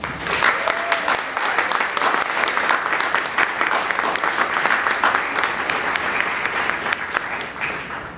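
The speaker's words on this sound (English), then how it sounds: "Let's give a warm welcome to Theo Stamos." Steady, enthusiastic applause from a large crowd, continuous clapping that fills the room for several seconds.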